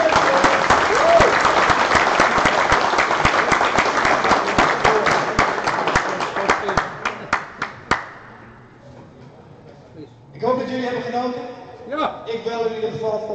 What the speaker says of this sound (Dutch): Geef ze een groot applaus aan het hele dorp.